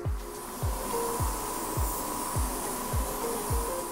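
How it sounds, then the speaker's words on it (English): Matte clear coat sprayed onto hydro-dipped Rhinohide 4x4 armor panels: a continuous close hiss of spray with a regular pulsing rhythm from repeated passes and low thumps roughly every half second. "now we're ready to apply our final clear coat. It's a matte finish, so we'll give it a couple coats"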